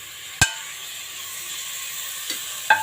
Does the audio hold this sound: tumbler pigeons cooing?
no